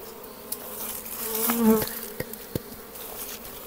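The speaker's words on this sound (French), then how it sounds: "Comme ça les abeilles reviennent s'agglutiner dessus." Honeybees buzz steadily around a brood frame set at a hive entrance outdoors, a dense near drone with a few individual bees passing close and louder mid-clip.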